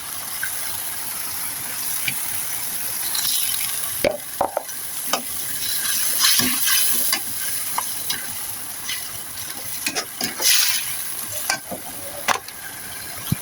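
Chicken sizzles steadily in a hot pan with meatballs and seasoning added while a utensil scrapes and stirs in irregular clatters, fairly close, with no voices.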